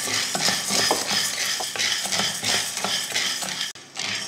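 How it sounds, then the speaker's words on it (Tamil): Cowpeas dry-roasting in a kadai, stirred steadily with a utensil so it scrapes and clinks against the metal pan in a dense, continuous close-up rhythm, with faint sizzling and no voices. "தட்டைப்பயிரையும் வறுத்துக்கலாம்."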